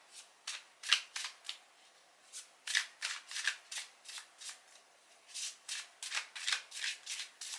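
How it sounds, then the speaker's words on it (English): A deck of cards being shuffled by hand, a series of quick riffling bursts in irregular clusters, close and crisp with short pauses between. "Ooh, I like shuffling that."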